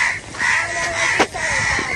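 A crow caws repeatedly near by, harsh rasping calls in a loose rhythm with a louder sharp burst midway, over a low background.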